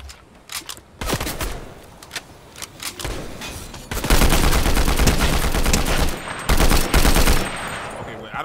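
Bursts of gunfire from the video game Fortnite, scattered single shots early, then a long dense volley of rapid shots, loud and close, with some talk mixed in.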